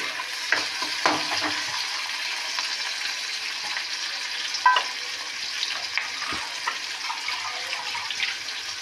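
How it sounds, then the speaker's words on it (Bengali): Onions with dried red chillies and a pinch of salt fry in a pan, a continuous close sizzle with occasional scraping stirs and small clinks. "এটা ভাজা হোক"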